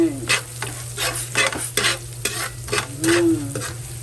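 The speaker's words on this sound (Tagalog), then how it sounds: "igigisa lang muna natin ang ating bawang sibuyas" Garlic and onion sauté in oil in a pan, a steady close sizzle with repeated stirring scrapes of a utensil in a loose rhythm, no talking.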